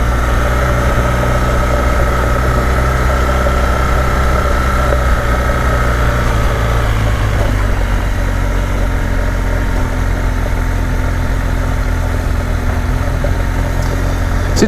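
A BMW GS Rallye adventure motorcycle engine idles close by among pines in Andalusia, a loud steady low rumble with a slight drop in pitch midway, running continuously without speech.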